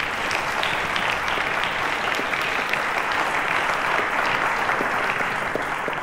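Sustained applause from a quiz show studio audience greeting the Cowbellpedia contestants: thick, even clapping that holds at a steady level for several seconds with no speech over it.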